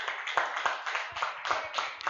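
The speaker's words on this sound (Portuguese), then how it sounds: "Aplauda o Senhor Jesus nessa noite." Church congregation clapping during a service at I.U.S.E., a brisk run of overlapping hand claps in a quick, uneven rhythm, moderately close and fairly quiet, with no talk.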